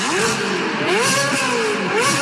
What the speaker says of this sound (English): Yeah, that's Ferrari V8.